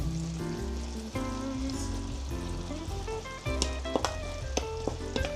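Chicken with grated Eden cheese being stirred in a hot pan, continuous soft sizzling with scraping stirs and a few sharp spoon taps toward the end.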